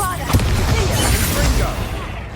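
A Bombarda spell explosion from Hogwarts Legacy bursts out loud and close in a dense, booming blast that rumbles on through the rest of the moment, with a voice speaking over it.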